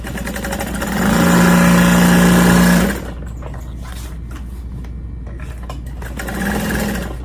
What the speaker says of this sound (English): And we're just gonna sew around all of those.